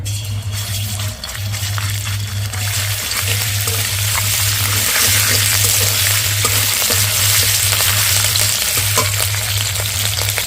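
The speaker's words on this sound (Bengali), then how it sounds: "তেলের মধ্যে দিয়ে দিচ্ছি আদা কাঁচা লঙ্কা আর মৌরি বাটা একসাথে" A paste of ginger, green chilli and fennel sizzles in hot white oil, a loud steady frying crackle with occasional stirring scrapes over a low pulsing electrical hum.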